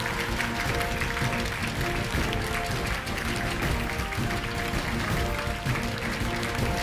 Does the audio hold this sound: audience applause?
yes